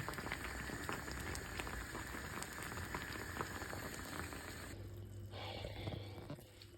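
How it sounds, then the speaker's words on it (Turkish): Herbal winter tea boils hard in a pot, a steady close-up bubbling and rolling simmer that continues without pause throughout. "Çayımız fokur fokur kaynıyor."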